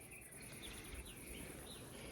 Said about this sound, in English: Really strong colony, loads of bees flying.